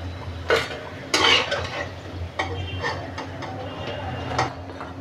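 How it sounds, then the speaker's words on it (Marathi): A slotted spoon scrapes and clinks against a pan as fried ajwain leaf fritters (bhaji) are lifted out of hot oil, giving several sharp metallic knocks over a faint background sizzle. "आता आपण हिला पण त्या भजीला काढून घेऊया. तेल चांगलं निथळायचं."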